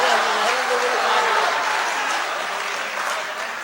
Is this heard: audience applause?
yes